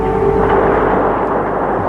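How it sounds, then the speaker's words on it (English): Anti-aircraft fire during airstrikes on a city, a steady rumbling roar of distant guns with no distinct separate shots, continuous at high level throughout. "drawing rounds of anti-aircraft fire."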